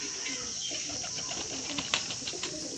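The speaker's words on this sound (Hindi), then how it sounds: "ये सारे कबूतर दिल्ली से लाए हुए हैं" Madrasi high flyer pigeons coo softly in a loft in Amethi, Uttar Pradesh, with faint, low murmuring calls and a few brief flutters, quiet and fairly close.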